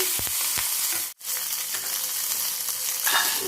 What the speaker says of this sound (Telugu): ఇది పచ్చిమిర్చి ఇది కొంచెం సన్నమంట మీద వేగనిద్దామండి